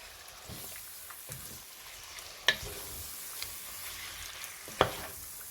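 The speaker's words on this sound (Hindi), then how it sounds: "इसको जिंजर गार्लिक के साथ हम फ्राई करेंगे" Boneless meat frying with ginger garlic paste for a restaurant-style salan, a soft, steady sizzle broken by two sharp utensil clinks and light stirring, quiet and with no talk.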